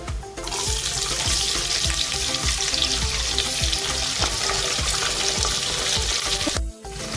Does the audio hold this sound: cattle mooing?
no